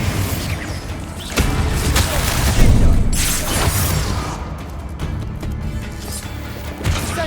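Repeated fire and blast spell explosions in the Hogwarts Legacy video game, a loud dense run of booms and crashes with whooshing bursts, peaking near the middle and ending with another sharp blast.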